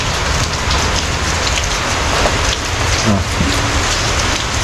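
Steady heavy rain pouring down in a continuous hiss, with a faint low rumble underneath and no talking.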